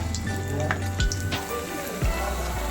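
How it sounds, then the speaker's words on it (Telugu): Bread pieces fry in hot oil in a pan, a soft close crackle with scattered pops and occasional low knocks, no voices. "ఇలా గోల్డ్ కలర్ వచ్చేంత వరకు ఫ్రై చేసుకుందాం."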